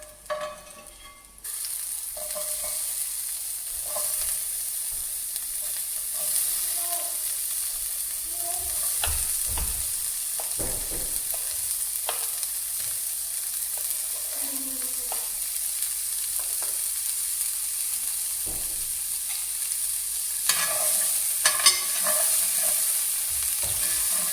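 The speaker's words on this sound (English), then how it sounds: "we're going to be frying the onion and the spring onion" Onions and spring onions frying in a pan with a steady, soft sizzle, broken by occasional utensil scrapes and clacks as they are stirred; no voices.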